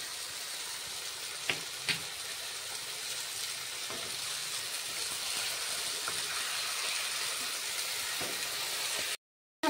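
Spicy chicken fries in a pan with green chili paste, giving a steady, close, dense sizzle throughout, with a couple of faint clinks of a spatula early on before the sound cuts off abruptly near the end.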